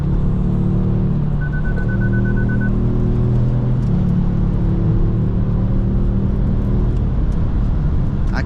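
A 2018 Kia Stinger GT cruising on a highway late at night, its engine and road noise forming a steady low rumble and whir from inside the cabin, with no speech.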